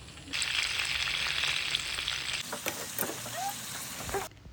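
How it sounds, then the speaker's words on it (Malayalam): Chicken pieces frying in hot oil for biryani, a loud, continuous close sizzle that eases slightly partway through before stopping abruptly near the end. "ഇനി നമ്മൾ ചിക്കൻ ഫ്രൈ ചെയ്യാനാണ് പോകുന്നത്."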